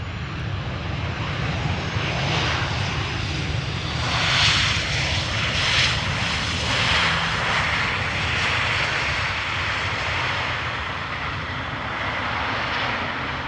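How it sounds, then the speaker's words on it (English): A KLM jet airliner arriving from London Heathrow roars past at Amsterdam Schiphol, its engine noise swelling to a broad, loud peak midway and easing off, heard alone. "KLM flight 1002 arriving from London Heathrow"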